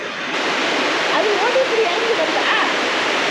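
Loud, steady rush of a waterfall inside the Aare gorge, heard up close as an unbroken wash of water noise, with a voice speaking softly beneath it.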